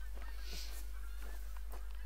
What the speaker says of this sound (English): Hearing lots and lots of geese